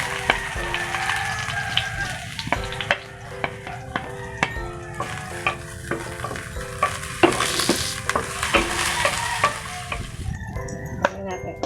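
Garlic sautéing in a little oil for Filipino ginisang monggo, a steady loud sizzle with repeated sharp clacks of a spatula stirring against the pan.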